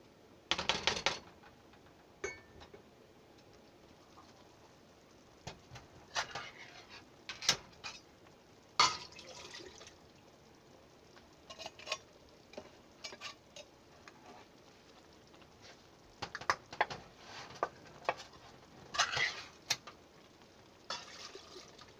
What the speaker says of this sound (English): So I've got this simmering nice. This is a pretty steady simmer.